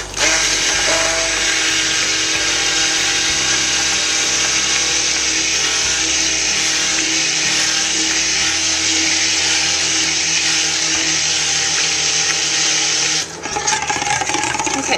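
A stick blender runs continuously through myrrh and frankincense soap batter, a loud, steady motor whine with slight shifts in pitch, then cuts out and starts again near the end.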